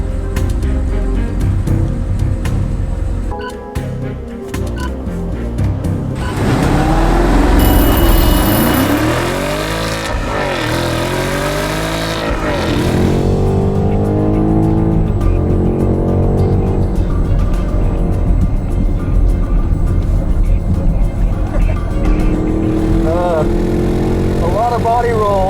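A big BMW family hauler with 523 horsepower is driven hard around a race track, its engine loud and steady throughout, with rising and falling revs and shifts, joined by a voice talking over it.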